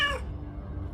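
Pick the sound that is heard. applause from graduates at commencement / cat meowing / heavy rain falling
cat meowing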